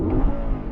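An original Audi V8 car engine with no soft limiter, running loud and close with a dense, continuous low roar that holds steady through the short stretch.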